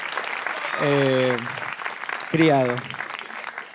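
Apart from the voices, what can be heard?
audience applause at stand-up comedy show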